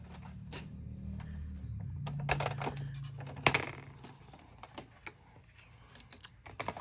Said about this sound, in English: we're going to cut these out with the dies